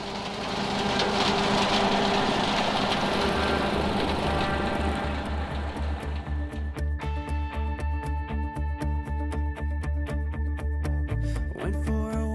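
A John Deere 2038R compact tractor's diesel engine runs steadily while brush hogging for a customer, a loud continuous close drone with a throbbing low pulse and rattling vibration, no voices.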